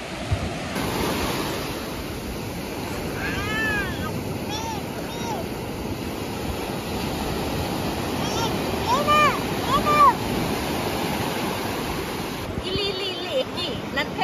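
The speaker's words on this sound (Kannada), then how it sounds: "ಇದು ಅಲೆ ಸೌಂಡ್ ಅಂತೂ ಹೆವಿ ಇದೆ" Ocean waves roll and wash onto the beach at Kundapura around sunset, a loud, steady surf roar with surges, while voices and calls rise faintly above it.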